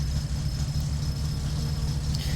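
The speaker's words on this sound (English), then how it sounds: "We'll let the engine warm up for a few seconds here" A car engine idling while it warms up in the game My Summer Car, with a little smoke from the tailpipe and low revs, a steady low rumble with a faint constant whine, close and alone without talk.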